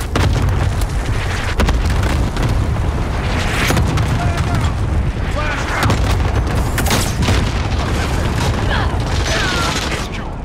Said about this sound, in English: Friendly cluster strike inbound.